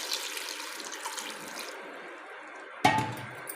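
Water poured from a glass into a cooking pot holding onion, ginger-garlic paste, tomatoes and beef for karahi, a steady low splashing pour that ends in a brief louder splash near the end, with no talking.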